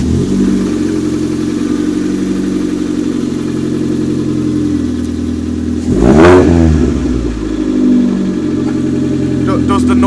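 A Ford EcoSport with a 1.5 petrol engine and an aftermarket exhaust idles with a deep, steady drone, then blips sharply once in a loud rev before settling back to idle.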